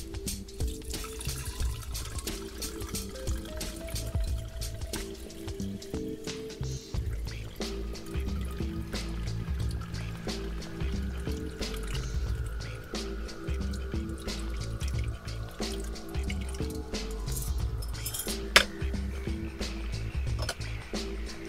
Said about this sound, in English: now that we have the cell filled with the salt water